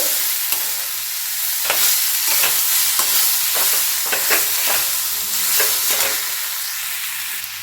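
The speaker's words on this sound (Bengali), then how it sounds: "এর নিচ ওপর করে কিন্তু ভাজতে হবে, নাহলে কিন্তু নিচটা লেগে যাবে।" Cauliflower stuffing for gobi paratha frying in a pan, a steady sizzle broken by repeated scrapes and stirs of a spatula against the metal, close and fairly loud with no voices.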